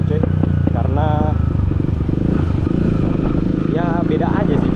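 A Kawasaki KLX 150 BF supermoto motorcycle being ridden, its engine droning steadily and close throughout while someone talks over it.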